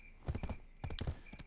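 Horse hooves clip-clopping in the online game Black Desert Online, a steady run of close hoof beats in two quick bursts with a short gap between, no talking.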